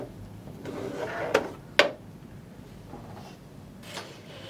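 A detachable extension table slides off the free arm of a Janome sewing machine, giving a couple of sharp plastic clicks and knocks over a quiet room, with a faint scrape before and after.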